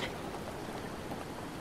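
Rain falls in The Legend of Zelda: Breath of the Wild as a soft, steady hiss of drops, quiet and unbroken for a second and a half, with no voices.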